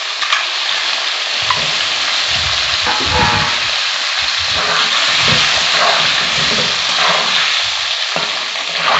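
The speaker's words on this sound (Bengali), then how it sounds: "এবার আমি ডিমগুলো দিয়ে দিচ্ছি, ডিমগুলো একটু হালকা লাল করে ভেজে নেব।" Eggs fry in a pan for egg posto with a loud, continuous sizzle and hiss, broken by scraping and stirring sounds. There is no talking.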